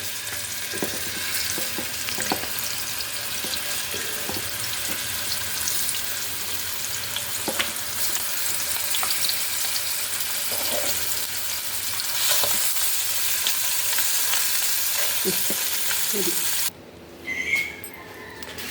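Fish frying in hot coconut oil, a steady crackling sizzle that runs throughout with occasional louder pops and stirring, then quietens near the end.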